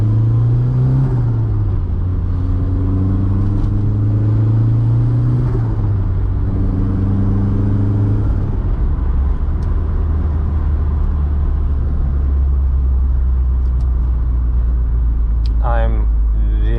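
A Mk2 car with a BT 1.8T engine pulls away, its deep exhaust rumble rising and falling through gear changes, loud and close from inside, then settling into a low steady cruise drone.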